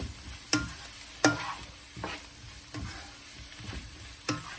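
Ginger, garlic and green chilies fry in a pan over medium heat, a soft continuous sizzle broken by four or five sharp spatula scrapes and knocks against the pan at uneven intervals.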